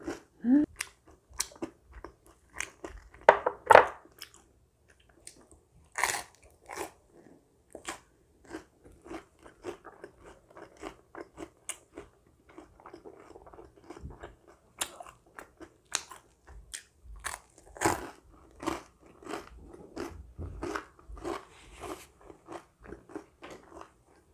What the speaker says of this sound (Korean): 초코 시럽에 찍어서 먹어볼게요